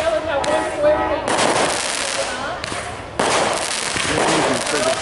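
Fireworks at a fall heritage festival go off in crackling, popping bursts with sharp onsets and dense sizzling tails, loud and fairly close, over a noisy outdoor crowd background.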